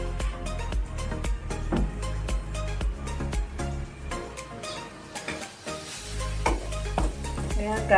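Coconut milk fries and sizzles loudly into brown latik curds in a pan, with steady spoon stirring and scraping running continuously throughout, close and dense.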